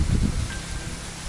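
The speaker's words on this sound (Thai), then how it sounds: "โอ้โหลมแรงจริงๆวันนี้" A strong wind by the Wang River buffets the microphone with a loud, low, gusty rumble, strongest at the start and easing slightly, with no voices.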